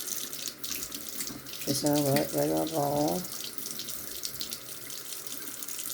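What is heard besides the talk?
bathroom sink tap running warm water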